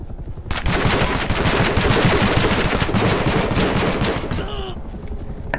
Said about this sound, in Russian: по меня стреляют, по меня стреляют